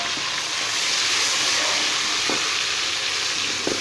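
Onions with green chili and garlic paste fry in a pan for a dal moong recipe, giving a steady, loud, close-up sizzle throughout with a couple of faint stirring knocks.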